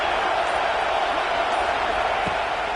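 Stadium crowd at an LSU football game: a dense, steady roar of many voices filling the space, loud and continuous without distinct peaks.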